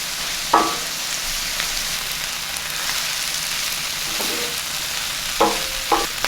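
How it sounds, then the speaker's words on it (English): A tablespoon of flour cooking in a pan for steak gravy with sous vide tri-tip: a continuous soft sizzle broken by a few short scraping stirs of a utensil against the pan. "I'm going to add my flour. About a tablespoon of flour. I'm going to cook that up for about a minute."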